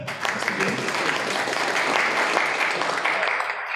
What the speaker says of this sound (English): A round of applause for us again.